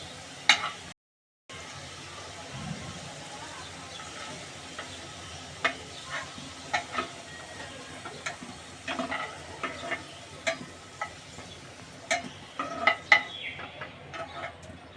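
Fried potato pieces lifted out of hot frying oil with a utensil, steady soft sizzling and bubbling interrupted by a brief gap, with scattered scraping and clinking taps close by.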